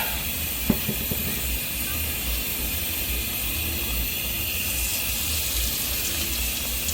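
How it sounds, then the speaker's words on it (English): Continuous hissing sizzle from a hot pan, steady and moderately loud, with a brief tap near the start and no talking. "Already sizzling."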